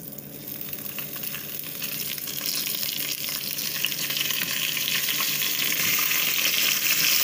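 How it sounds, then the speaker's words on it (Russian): Steady loud sizzling of lamb ribs frying in a hot cast iron pan, a continuous crackling hiss that builds slightly and holds. "Я выкладываю бараньи бока на разогретую чугунную сковороду."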